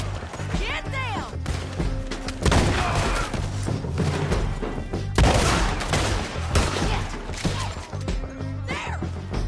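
Repeated gunshots and heavy volleys crack through a Red Dead Redemption 2 shootout, loud and close with thuds and crashes, while music and voices run underneath.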